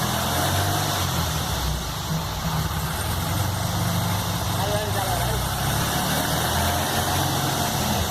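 A Volkswagen Beetle (Fusca) engine runs steadily and loud at close range, a continuous low rumble that holds through the whole stretch without clear rev peaks.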